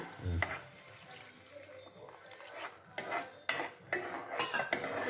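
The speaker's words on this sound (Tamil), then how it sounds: "நல்லா பச்சை வாசனை போகிற வரைக்கும் கிளறணும்" A spoon stirs red chilli chutney with tamarind in a pan, making repeated scraping and clinking strokes in an irregular rhythm over low, steady kitchen background.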